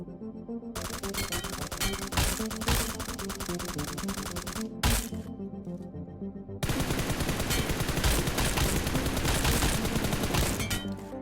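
Automatic gunfire in PUBG Mobile fires first with a suppressor, a muted rapid rattle, then with a compensator, a louder, harsher continuous burst, with a brief pause between.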